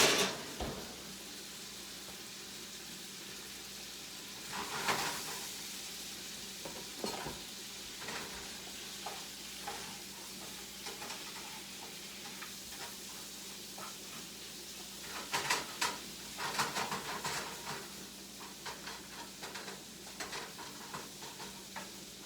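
Mushrooms fry in a pan for a curried caribou meal, a continuous close sizzle broken by repeated scraping and stirring strokes, busier toward the end, with no one speaking.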